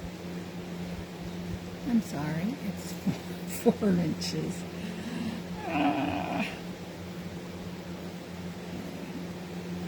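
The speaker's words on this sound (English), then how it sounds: "if you can hear a whirring noise in the background, it's our fan" A steady low whirring hum from an electric fan runs in the background while a person speaks briefly over it.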